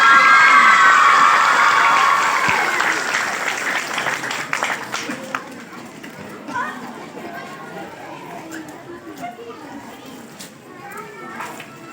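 A school audience applauds and cheers to welcome Mian Awais ur Rehman at a school of sciences event. Loud clapping with shouts and children's voices fades gradually into scattered claps and chatter.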